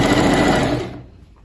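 Sewing machine fitted with a twin needle stitching the hem of a sweatshirt, a fast, steady close-up whir that runs loudly and then stops, fading to near silence.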